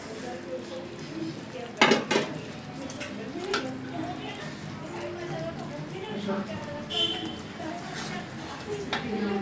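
Sesame seeds being stirred into cooked jaggery in a pan give a steady scraping and clinking of a spoon against metal, with a few sharper knocks, under a voice talking.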